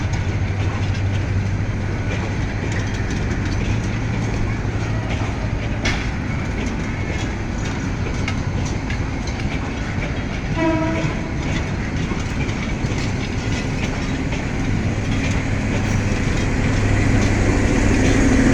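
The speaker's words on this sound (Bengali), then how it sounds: "তিস্তা ট্রেনটি জয়দেবপুর স্টেশন থেকে ছেড়ে যাচ্ছে" Bangladesh Railway's Tista intercity train, running from Dhaka, pulls out of Joydebpur station with a loud continuous rumble and rhythmic clatter of wheels on rails close by, and a brief horn note partway through.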